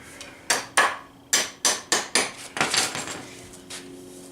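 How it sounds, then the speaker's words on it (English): A hammer taps a carriage bolt into a bench built from baseball bats, giving about a dozen sharp metallic knocks in uneven bursts, quickening toward the end, close and distinct without speech. "this is where the hammer can tap in a little bit."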